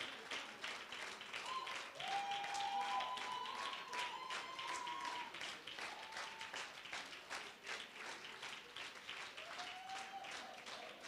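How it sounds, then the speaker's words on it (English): Crowd applauding a trophy-winning team at an association's annual general meeting, a fairly distant, continuous patter of many hands lasting several seconds, with faint tonal whistles or cheers over it. "A large round of applause for these gentlemen who accomplished a feat never done before."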